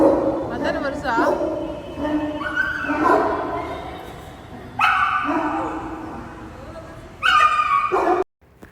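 Several dogs at a Great Dane breeding farm bark, yip and whimper in short bursts, loud and close, with talking mixed in between the calls.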